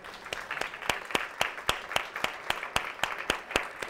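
Audience at a comedy talk on divorce applauding, sparse distinct claps at an even rhythm over a soft background of clapping, fairly faint and distant.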